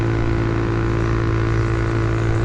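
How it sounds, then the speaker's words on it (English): The engine of a street legal mini bike with a Juggernaut CVT pulley holds a steady, loud, high-RPM drone while riding, with wind noise over it and no speech. "it is holding the engine at a higher RPM"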